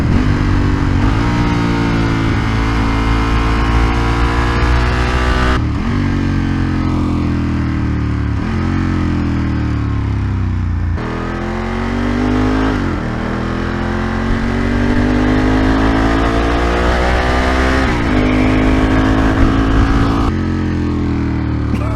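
A 29-year-old Ducati 916 motorcycle is ridden on a bumpy road, its engine loud and close, revving up and down through repeated gear changes with steady wind rush.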